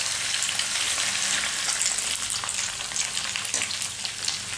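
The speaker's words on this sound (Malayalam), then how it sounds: "ഒന്നായിട്ട് പച്ചമണം മാറുന്ന നേരം ഒന്ന് വഴറ്റി കൊടുക്കുക." Green chili, ginger and crushed garlic sauté in a pan with a steady, dense sizzle and crackle. It runs continuously at moderate loudness, with occasional stirring scrapes and no voices.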